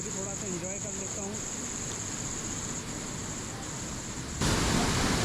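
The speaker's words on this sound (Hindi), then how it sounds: "पानी की आपको आवाज़ सुनाई दे रही होगी, बहुत तीव्र आवाज़ है।" Rushing water of the Gorakhnath Satghaghari waterfall, a dense, steady roar filling the scene and swelling louder near the end, with a voice talking over it early on.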